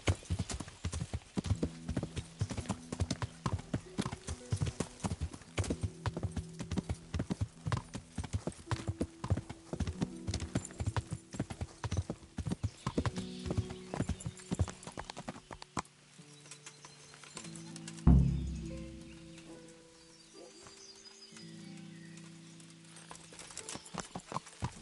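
Steady video game horse hoofbeats from Kingdom Come: Deliverance clip-clop in a quick rhythm for most of the stretch, then stop, followed by a thump and a low, quieter background.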